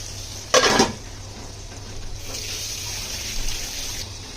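Fish frying in a pan with only a little oil in a home kitchen: a short, loud spitting burst early on, then a steady soft sizzle and hiss that swells slightly near the end, with no talking.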